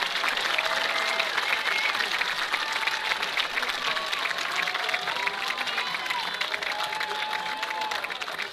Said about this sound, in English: Let's have one more round of applause for our national caliber athletes and coaches.